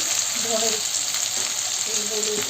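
Cumin powder and sambar masala frying in a hot pan, a steady close sizzle with light stirring scrapes throughout, no talking.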